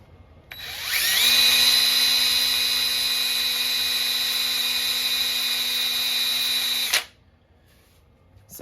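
A cordless drill spins a Toyota Denso mini alternator, a steady high whine with strong tonal harmonics that ramps up quickly, holds constant for about six seconds, then cuts off abruptly.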